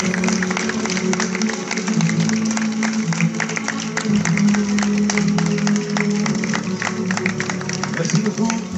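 A large audience applauds steadily for sailors of the Solitaire du Figaro race presented on stage in Rouen, a dense, continuous clapping that holds at full level throughout, with a voice and music underneath.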